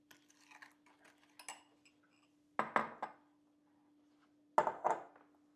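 A spoon scrapes and clinks against a bowl while mixing matcha white chocolate chip cookie dough, giving a few scattered light taps and then two louder bursts of scraping knocks close by, with quiet pauses between them.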